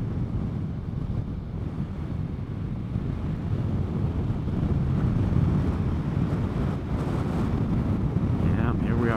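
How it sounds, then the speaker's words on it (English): Strong wind roars into the microphone while riding a Vespa GTS 300 Super Sport scooter through cold, open countryside, a steady loud broadband rush that persists throughout with no clear voices. "we are going straight into the wind"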